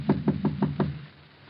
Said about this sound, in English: And then? Knock.